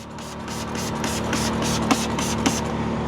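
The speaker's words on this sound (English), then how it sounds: "You're gonna spray on your product to your upholstery" A detailing product is sprayed onto car upholstery in a series of pulsing hissy bursts over a constant background hiss, close and moderately loud.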